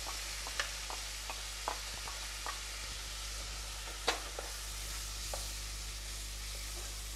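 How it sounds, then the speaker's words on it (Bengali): Pineapple puree cooking into spice masala for a hilsa fish curry: a soft, steady sizzle beneath a constant low hum, with scattered light clicks and scrapes from stirring. "এবার আমি দিয়ে দিলাম এখানে আনারসের পিউরিটা।"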